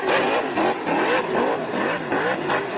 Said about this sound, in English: That engine just sounds so happy.